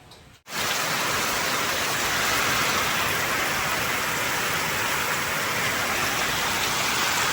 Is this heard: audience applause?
no